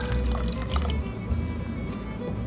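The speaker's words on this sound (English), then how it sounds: "I can always add more water if I need to" Water pours steadily into a pot, a close, continuous splashing fill with small drips and gurgles throughout.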